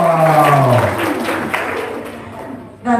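Studio audience applause, a short burst of clapping and crowd noise fading under a man's speech, with another voice cutting in at the end.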